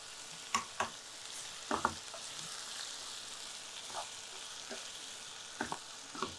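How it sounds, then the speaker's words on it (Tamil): Kothu sautéing in a pan with salt and asafoetida gives a soft, steady sizzle, broken by several sharp scraping clicks from stirring; quiet and close, with no talk. "இது அப்பப்போ நல்லா வதக்கி விட்டுக்கிட்டே மூடி வச்சிடலாம்."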